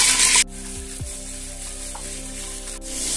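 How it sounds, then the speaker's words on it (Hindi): Garlic fries in a pan for kadhi, starting with a loud burst of sizzle as the garlic hits the oil. The sound then settles into a quieter, steady frying hiss under an audible low hum, with the sizzle swelling again at the end. "लहसुन डालते हैं इसके अंदर।"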